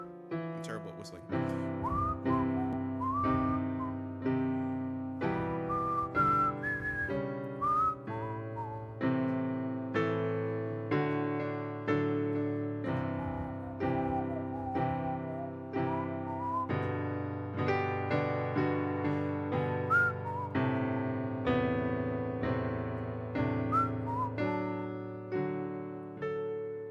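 Someone at an open mic whistles a melody over a steady accompaniment, the tune carrying clearly and continuously for nearly half a minute with no talking.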